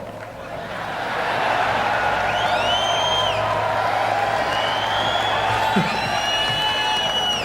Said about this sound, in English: Thought you might get a bigger applause